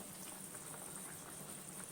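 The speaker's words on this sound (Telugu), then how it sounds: "ఒక్క 5 నిమిషాలు మరిగించుకున్న తర్వాత నేను మూత తీసి చూస్తున్నాను" Chicken curry bubbles steadily in a pot after water is added, a continuous soft boiling fizz with faint popping, close and even throughout with no talk.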